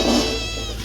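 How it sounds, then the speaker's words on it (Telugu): A house cat lets out a single short meow, close and fairly clear, while it prowls near a kitchen where mutton is being cooked. "ఇది మా పిల్లి మొత్తం మటన్ వాసనకి ఇక్కడనే తిరుగుతుంది"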